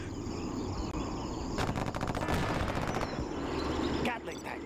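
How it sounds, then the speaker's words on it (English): A Gatling tank in Command and Conquer Generals whirs as its gun barrel spins, then rattles off a rapid stream of shots over a steady mechanical drone, the firing cutting off near the end. "Gun barrel spinning."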